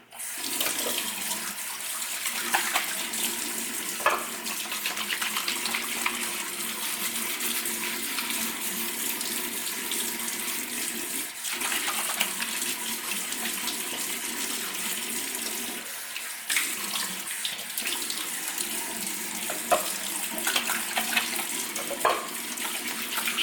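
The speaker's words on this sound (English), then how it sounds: "Again, I'm washing my whole face." Steady running water from a tap splashes into a sink while a face and beard are washed, a continuous close hiss with occasional louder splashes and no talking.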